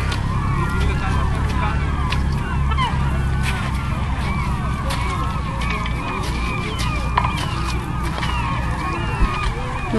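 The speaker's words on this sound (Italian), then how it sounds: "Gabbiani." Gulls calling repeatedly near the water where fishing is under way, a dense overlapping chorus of honking cries over steady background noise, with a voice talking at times.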